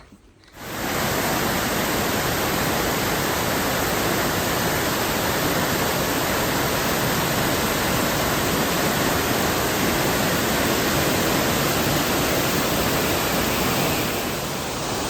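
Thundering Falls on the Appalachian Trail in Vermont roars as a dense, unbroken wall of rushing water, loud and close, fading in at the start and holding steady throughout with no voices.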